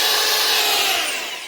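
A power drill fitted with a 16mm SDS bit, hammer action switched off, bores through an external wall, giving a loud continuous grinding whir that fades slightly toward the end with no talk.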